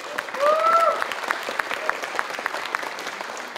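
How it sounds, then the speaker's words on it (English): Festival audience at Beaker Street breaks into a loud burst of clapping and cheering that swells quickly, with a brief whistle near the start, then settles into steady, dense applause. "Let's have a round of applause for Beaker Street."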